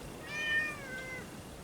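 Cats outdoors give a single faint, drawn-out meow against low background noise on an off-grid property.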